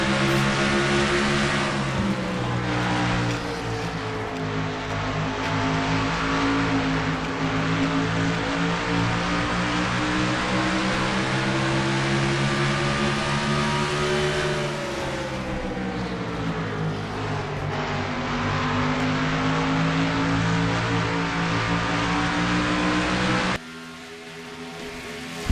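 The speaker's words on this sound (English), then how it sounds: "Let's listen to this Garrett Lamar car work his way around Iowa." Stock car engine in a sim racing game at Iowa Speedway, heard from the in-car camera: a loud, sustained drone that rises and falls with gear and throttle changes, running alone for most of the lap with a brief drop near the end.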